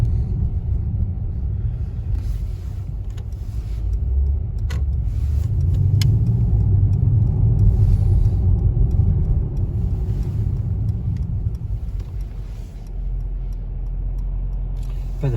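A Mercedes AMG GT 4 drives on a road, heard from inside as a steady low engine and road rumble that swells slightly mid-clip, with occasional faint clicks and no talking.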